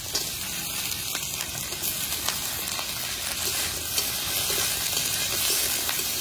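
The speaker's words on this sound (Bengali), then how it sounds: "একটু ভালো করে নাড়াচাড়া করে ভেজে নেব" Diced potato, pumpkin and Malabar spinach stems frying in a pan, a loud continuous hiss and sizzle with scattered stirring scrapes close by, no voices.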